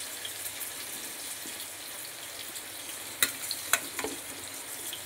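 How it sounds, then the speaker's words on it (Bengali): Boiled potato and pointed gourd fry in oil for a vegetarian curry, giving a soft, steady sizzle with a couple of sharp clinks near the end, quiet and close, with no voices. "আলু আর কাঁকরোল যে সেদ্ধ করে রেখেছি এটা তেলের ওপর দিয়ে দেবো।"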